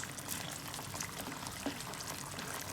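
Ready-to-eat chole masala heats in a pan, with a soft, steady bubbling and hiss as it comes to a boil, low and continuous throughout.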